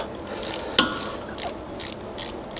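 A hand ratchet tightens bolts on the aluminium mechatronic unit of a Volkswagen Touareg V10's 09D gearbox, giving quick close bursts of crisp clicking with a sharp knock early on.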